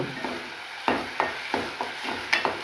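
Masala paste of ginger, garlic, onion and tomato with mustard seeds and cumin frying in a pan, a steady low sizzle broken by regular scraping strokes of a spoon, close up and alone.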